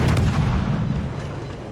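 Warship guns firing in a naval video game, heard as a deep, loud rumbling boom that slowly fades over under two seconds.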